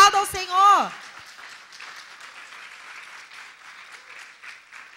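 A congregation at a women's church conference applauds. A voice is heard briefly at the start, then a steady layer of moderate clapping follows and continues to the end.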